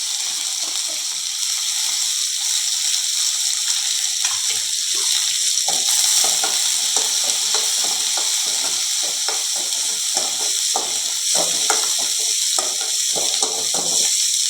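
Garlic, chili, shallots and coriander sautéing in a pan with cumin, giving a continuous loud sizzle and hiss, with irregular scraping and clicking from stirring throughout.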